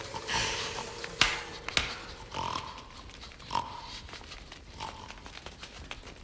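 Pigs grunt and oink in a film scene, a scatter of short snorts and squeals spread unevenly over several seconds at moderate distance, with sharp knocks and rustling around them.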